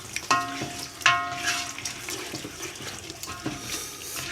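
Masala for beef paya being stirred and fried in a pot, giving soft sizzling with scraping and clinking sounds up close, then a few brief sharp knocks against the cookware.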